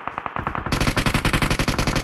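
Rapid automatic gunfire in the video game BGMI rattles off in a fast, even burst of loud close shots, gaining a sharper edge partway through.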